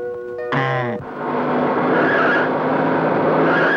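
A vehicle skids on a punctured tyre with a loud, close screech lasting about half a second, then a sustained broadband rumble of the car carrying on.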